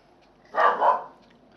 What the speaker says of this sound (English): And there goes the dog again.